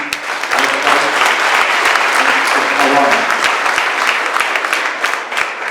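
Loud, dense crowd applause for party leaders at a Patriotic Alliance regional leadership launch, sustained clapping with a few sharp close claps standing out and voices calling out through it.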